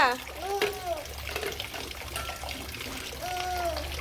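Water trickles and pours during a young child's bath at home, a soft steady running sound beneath a voice speaking gently to the child, with brief bursts of high child-like vocal tones.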